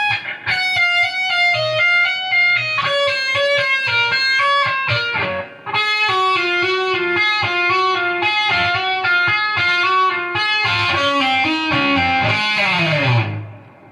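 A chaotic, rapid legato run on overdriven electric guitar from a solo, with fast flowing notes, a brief break midway, then a climbing, frantic finish that slides down at the end.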